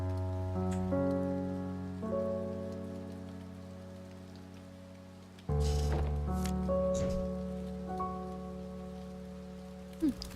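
Rain falling in the video game A Bird Story, a steady soft hiss laid under sustained gentle musical tones, with a louder swell partway through and no voices.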